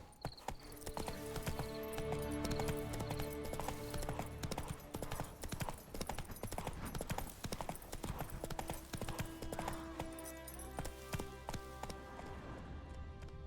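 Horse Roach's hooves clip-clop steadily in The Witcher 3, a continuous galloping rhythm under game music and ambience, fairly loud throughout.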